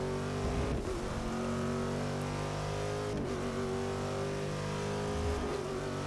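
A Corvette-based race car in Forza Motorsport 6 roars at close range, revving hard and loud throughout, with brief dips and quick shifts between sustained high-rev pulls.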